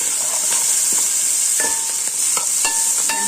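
Tomatoes frying in a pan with onion, green chili, fenugreek leaves and mint, giving a constant loud sizzle broken by several scraping stirs of a spoon, with no talking.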